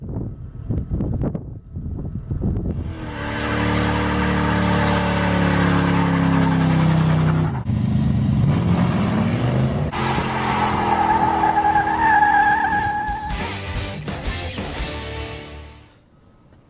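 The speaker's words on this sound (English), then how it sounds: "I just wanted you to floor it" A car accelerates hard at full throttle, engine note climbing through rising harmonics with a gear change partway, loud and close before fading out at the end.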